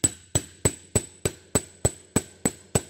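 A hammer taps a long socket to seat the bearing on a Bosch 14V 90A alternator, ten even, sharp metallic knocks at a steady quick rhythm, close and clear with no talk.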